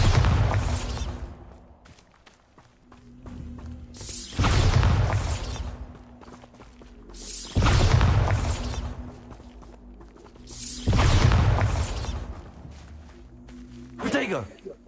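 Bombarda blasting spell in Hogwarts Legacy, four big rumbling explosions that go off at a steady interval of a few seconds. Each one swells and fades into quieter game ambience, and a final shorter burst comes at the end.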